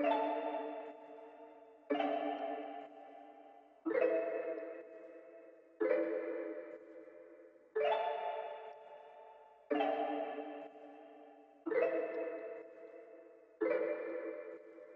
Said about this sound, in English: This is what the bell sounds like.